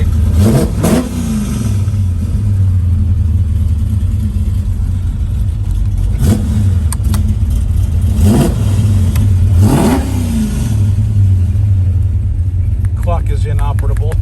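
A 1981 Chevrolet Camaro Z/28 pro-touring build with MSD fuel injection starts and revs repeatedly, a loud close engine rumble with several sharp throttle blips rising and falling, while people talk alongside.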